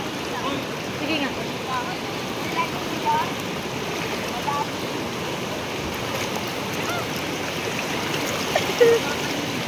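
A strong river current rushes steadily at close range during a riverside car-camping trip, a dense broadband wash with brief voices under it.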